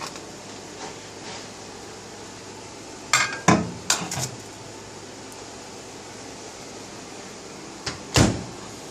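A brand-new microwave door swings open with a couple of soft clunks and clicks midway through, then a quieter latch click near the end, all close by against a low room hum.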